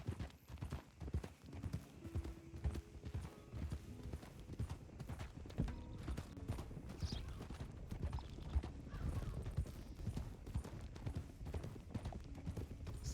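A horse's hooves clip-clopping steadily at a walk in the Red Dead Redemption 2 (RedM) game world, a quiet, rhythmic beat with faint background sounds and no speech.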